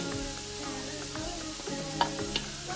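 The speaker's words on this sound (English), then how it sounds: "Once we caramelize the onions a little bit" Onions caramelizing in a hot pan for an Ecuadorian chicken stew, a soft steady sizzle with a few light stirring clinks and scrapes, faint and close.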